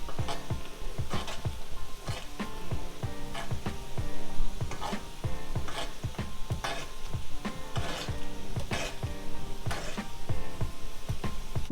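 Garlic herb butter steak bites sizzle and fry in a pan, with repeated scraping and stirring strokes as the pieces are basted, steady and close.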